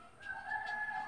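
A friendly rescued dove, a tukmo, in the Philippines gives a single sustained tonal call, close by and fairly clear, with no talking.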